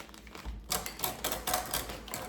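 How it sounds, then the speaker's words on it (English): A food storage bag is cut from a roll with quick, close rustling of plastic and crisp snipping or crinkling bursts in an irregular rhythm. "All right, let me cut a bag."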